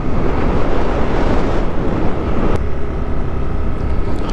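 Strong wind gusts and buffets a microphone high on Mt. Olis, a loud, continuous broadband roar that eases slightly after a few seconds, with no voices.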